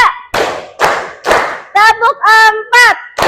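A group of children clap together in a classroom counting game, sharp broadband claps landing in a steady counted rhythm and alternating with children's voices chanting the count aloud, close and loud.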